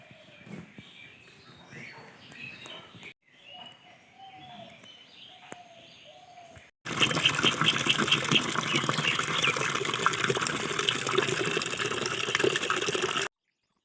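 A bathroom tap runs steadily for several seconds while someone washes their face, a loud, even gush of water that follows a quieter stretch of birdsong and faint background sounds.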